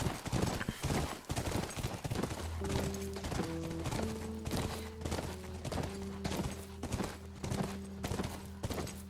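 Steady clip-clop of horse hooves during a ride in The Last of Us, moderately close and rhythmic, with a low sustained musical drone underneath and faint background noise.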